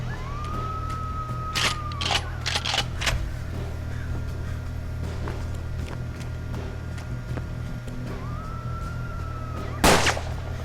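Gunshots crack from both sides in the turn-based western game Hard West. Several sharp reports come in a quick cluster early on and one loud one near the end, over a steady low hum, with two rising whistle-like tones between them.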